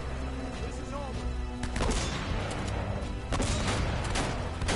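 Enemy gunfire in Uncharted, heard as scattered sharp cracks and impacts amid dense game noise and music, with louder bursts near the middle and end.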